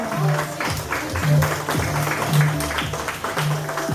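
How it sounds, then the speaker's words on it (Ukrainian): Applause for a children's vocal group at a Children's Day celebration in Lokhvytsia, clapping in dense bursts at moderate distance with a repeating low hum underneath. "оплески, оплески цим дітям"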